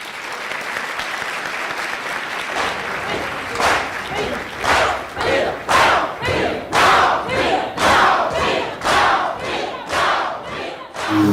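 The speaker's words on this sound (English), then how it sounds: "Please give him a round of applause" A large crowd at a Greensboro Sit-Ins commemoration applauds loudly, building into rhythmic waves of clapping and cheering that swell and recede several times.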